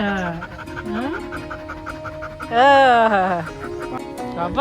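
Lava and Kusha, a pair of dogs tired out from running, pant in quick, even breaths close by, overlaid with drawn-out whining, voice-like tones that rise and bend.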